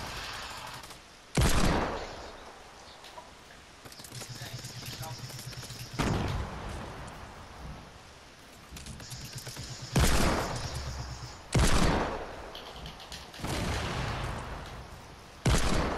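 Desert Eagle pistol shots in Fortnite Battle Royale, several loud separate blasts spaced a few seconds apart, with spoken German chatter and quieter game noise between the shots.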